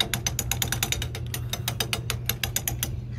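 A coin-operated penny smasher machine at a tourist stop is cranked by hand, giving a fast, even run of loud, close ratcheting clicks over a low mechanical hum.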